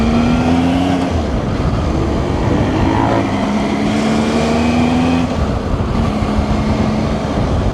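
Motorbike on the road with the rider's visor open, a steady close engine drone with shifting pitch mixed with constant rushing wind noise throughout.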